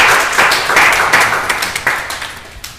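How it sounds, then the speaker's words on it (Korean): Members of a church youth group clap together in a short burst of applause that fades over about three seconds. "우리 서로를 위해서 좀 박수로 격려하면서"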